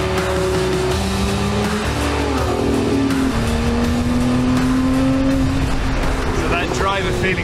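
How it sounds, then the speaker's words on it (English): Inside a Lotus Emira on the move, the engine hums and roars steadily with pitch rising through gear changes, close and constant with road noise beneath it. "This engine just roars."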